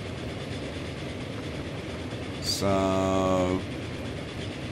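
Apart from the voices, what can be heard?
train locomotive running through tunnel in Transport Fever video game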